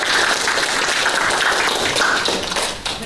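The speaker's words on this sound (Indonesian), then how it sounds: "mari kita tepuk tangan dulu untuk dia" A classroom of students clapping for a classmate, a dense, steady round of applause lasting a few seconds before tapering off at the end.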